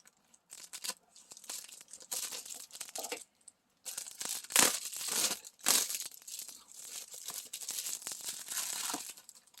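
Plastic packaging bags crinkle and tear in irregular bursts as they are cut open with scissors, close by, with short pauses between rustles.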